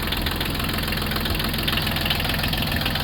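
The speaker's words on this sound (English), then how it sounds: "I got the tractor to start." Old diesel tractor, just started after its glow plugs were made to work, running steadily at idle nearby with a continuous low knocking rumble and constant vibration, no voices over it.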